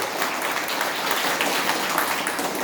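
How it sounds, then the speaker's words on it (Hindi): A crowd of listeners, apparently students at a Hindi-language motivational talk, claps continuously in dense, even applause that stays steady for the full stretch. "ताली बजाइए"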